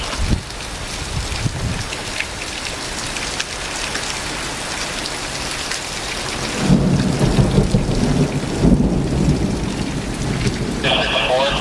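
Heavy rain pours steadily through a severe thunderstorm in Pittsfield, Massachusetts, with hail reported, as a thick wash of rainfall swells louder and deeper midway and a low rumble of thunder rolls in near the end.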